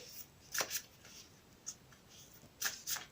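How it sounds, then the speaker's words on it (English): Cards from the Nature's Whispers Oracle deck being shuffled in a few quick riffling bursts, close and crisp, with quiet pauses between them and no talking. "I'll shuffle them again for you on camera."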